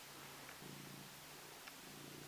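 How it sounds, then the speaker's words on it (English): A cat stretched out on a person's lap purrs softly and steadily, a low rhythmic rumble that is very quiet and close, with no talking over it. "she's just stretched out on my lap, purring, quite comfortable here"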